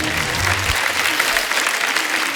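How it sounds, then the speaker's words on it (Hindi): Studio audience on a Hindi comedy show applauds the players with steady, dense clapping that fills the whole moment, a crowd of hands close and loud, with a low voice murmuring briefly at the start. "एक बार जोरदार तालियां हो जाए हमारे सभी खिलाड़ियों के लिए।"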